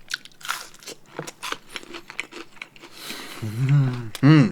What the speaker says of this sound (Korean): 돈까스 바삭바삭해.